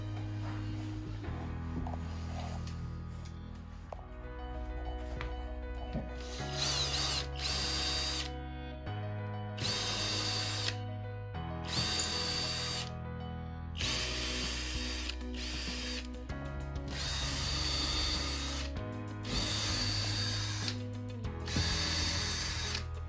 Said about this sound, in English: I'm going to go ahead and drill these holes first